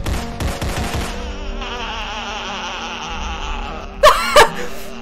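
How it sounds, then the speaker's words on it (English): Rapid bursts of gunfire in a SpongeBob video game, a crackling fusillade of quick shots that starts off dense, then trails into a buzzing electronic drone before two louder sharp bangs near the end. "I shot my boy SpongeBob"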